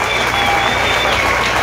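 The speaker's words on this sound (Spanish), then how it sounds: "¡Y esos aplausos para Catazacá!" An audience at a bass fishing tournament in Catazajá, Chiapas, claps in a dense, steady burst of applause, loud and close, with no gaps.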